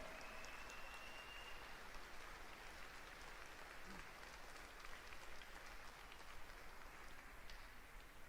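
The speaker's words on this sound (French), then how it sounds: "On peut les applaudir très très fort." Audience applause for volunteers at the official opening of a national popular-education gathering in France. A dense, even patter of clapping from a large crowd holds steady throughout at moderate distance, with no voices standing out.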